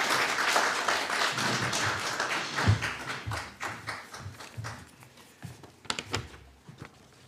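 Audience applause following a history lecture, steady moderate clapping from a room of listeners that gradually thins and fades toward the end.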